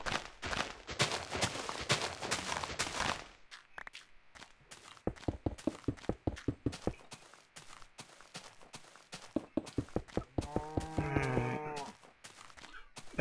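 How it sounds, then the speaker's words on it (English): A cow in the video game Minecraft gives one low, moo-like call near the end, following a run of rhythmic, clicky footsteps and an earlier dense noisy stretch. "Cow comes over here again."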